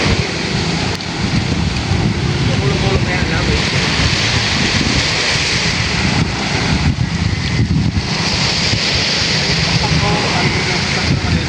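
Strong coastal wind on a Philippine shore, where a fisherman held back from heading out to sea, roars and buffets the microphone in a continuous loud rush with a surf-like wash beneath.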